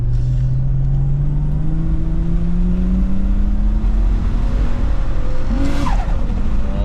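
A modified R31 sleeper car accelerates hard on narrow 185 tyres, the engine note rising steadily in one long pull close by, with a brief chirp or squeal near the end.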